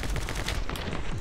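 Rapid, steady gunfire in the video game My Friend Pedro, a dense stream of close, loud shots running without pause through the short stretch, with no talk over it.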